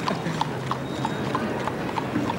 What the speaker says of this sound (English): And here goes the horse.